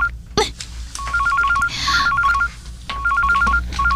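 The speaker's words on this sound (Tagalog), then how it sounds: "Ang telepono." A telephone rings in a domestic drama scene, sounding in repeated warbling electronic bursts with short gaps, loud and near, over faint background sound and a brief knock at the start.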